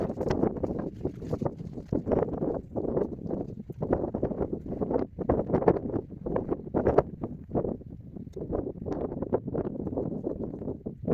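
Steady, gusty wind buffeting the microphone on a Lake District fell, a continuous rough roar with surging bursts and no voices.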